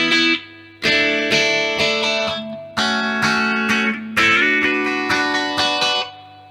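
Electric guitar plays a series of picked chord phrases with a swirling phaser effect, each phrase ringing out briefly before the next begins.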